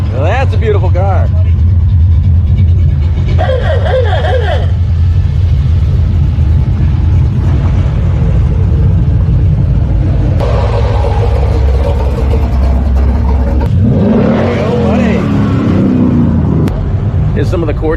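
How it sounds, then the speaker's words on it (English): Show cars rumble into a muscle car show as the gates open, engines idling and revving in a steady low drone with passing swells, while people talk throughout over the noise. "These show cars are piling in because we haven't let them in yet"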